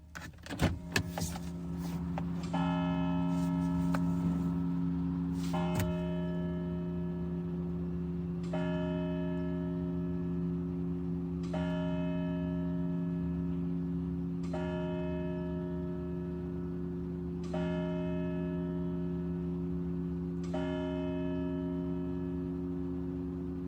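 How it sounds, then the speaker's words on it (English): Church bells toll slowly and evenly, one strike about every three seconds, each note ringing on with a long, sustained hum beneath the next. "You gotta let them bells ring."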